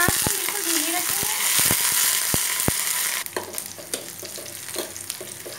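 Curry leaves and green chillies crackle and sizzle in a mustard seed tempering over low heat, with loud hissing frying and sharp pops early on, then a quieter sizzle with light stirring clatter.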